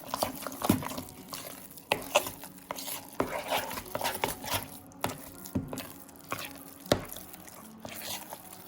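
Garlic is stirred into a spreadable tomato paste, producing soft, wet squishing and tapping strokes repeated at an irregular rhythm, close and fairly quiet.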